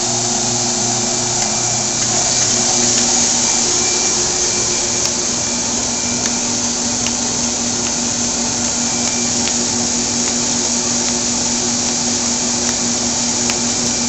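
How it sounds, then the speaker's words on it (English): A Kirk Rudy WinkJet shuttle feeder feeding envelopes runs loud and close with a steady whirring mechanical drone, faint regular ticks over it and no talking. "So we'll go ahead and start the feeder."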